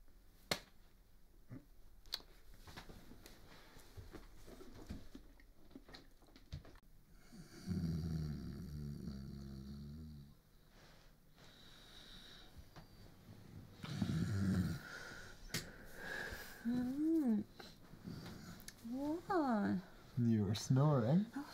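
A person snores in bed in several bursts of raspy, rhythmic breathing in a quiet room, with talking in between.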